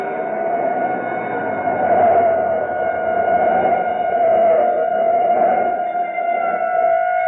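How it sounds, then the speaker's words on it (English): A police siren wails a block away with a sustained steady tone rising and falling slightly in loudness, fairly loud and continuous without any voices, in an old radio drama. "a police siren a block behind"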